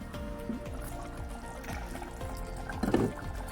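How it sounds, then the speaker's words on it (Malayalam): Water pours into a pot of simmering Kannur-style mackerel chilli curry with a soft, continuous trickle and splash, swelling briefly louder near the end; no one speaks. "ഞാൻ കുറച്ച് വെള്ളം ഒഴിച്ച് കൊടുക്കുന്നുണ്ട്."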